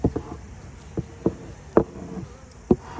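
A fall hive inspection with honeybees stirred up: a soft insect hum runs beneath a handful of sharp knocks and bumps from handling the hive, spaced irregularly and close by.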